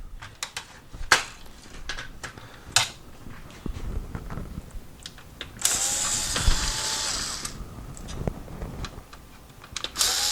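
Screws being backed out of the front panel of a Pioneer VSX D608 receiver, with small ratcheting clicks and metallic ticks coming in irregular bursts close by, and a brief louder rattle partway through.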